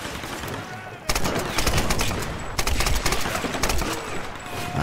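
Two bursts of rapid automatic gunfire in the Tomb Raider PC game, each a loud rattling string of shots lasting over a second, with a quieter pause between them.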